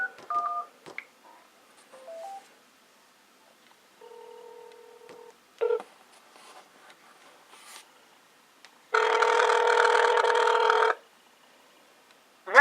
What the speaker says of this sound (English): So let's do a test call here.